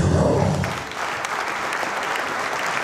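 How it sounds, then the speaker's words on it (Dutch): Crowd applauding the riders of a cycling club's team presentation, steady and fairly loud clapping that starts over a brief burst of louder sound and then holds evenly to the end. "Geweldig applaus hier voor de renners en rensters van Snelwielbus Tonics 2019"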